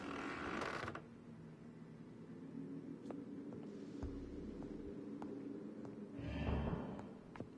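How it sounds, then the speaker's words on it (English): Creaking inside a building in the video game Vampyr, a low groaning creak that swells at the start and again near the end, with faint mechanical ticks and rumbles in between, no talking. "There's some weird creaky noises going on in this building."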